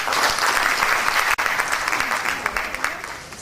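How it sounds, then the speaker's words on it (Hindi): An audience claps loudly and steadily at an indoor Hindi Diwas ceremony, with dense applause filling the whole stretch and a light crowd murmur underneath. "तालियों से आप उनका स्वागत करें।"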